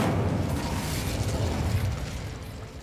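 An Incendio fire spell in Hogwarts Legacy unleashes a loud, dense, roaring blast of flame that holds steady for a few seconds, close up with a deep rumbling body.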